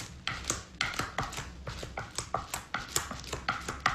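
A paintbrush dabs and scrapes acrylic and pastel across cardboard, giving a quiet, close series of scratchy, irregular strokes and taps with soft rustling between them.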